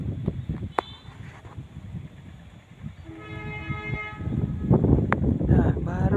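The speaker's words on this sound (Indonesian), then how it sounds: "Nah baru dah dia bunyiin klakson." The KA Sri Tanjung passenger train, running from Ketapang to Lempuyangan Yogyakarta, sounds a sustained horn blast over rumbling rail noise and wind. The train passes fairly near, with a few shorter toots after the main blast.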